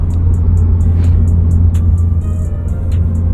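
A car with an aftermarket DNA exhaust revs loudly out in open badlands in Mexico, a deep continuous engine rumble dominating throughout with brief sharp crackles and pops on top.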